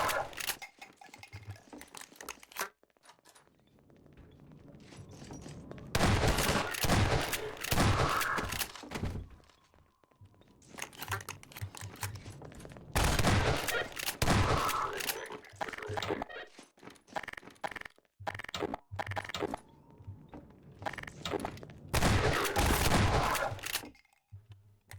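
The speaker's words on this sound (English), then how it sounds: "He turned around and shot at the window while it was on the inside." Gunfire aimed at windows during a firefight in the Half-Life 2 video game, several loud bursts of shots in clusters with thuds and clatter between them, no talking.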